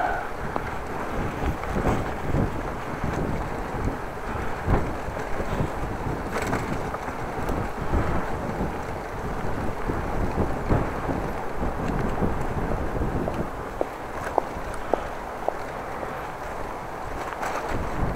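Strong wind buffets the microphone of a Dutch bike rider on a windy morning ride to work, a steady roaring rumble with gusty swells that fills the whole stretch and masks everything else.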